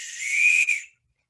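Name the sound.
whistle being blown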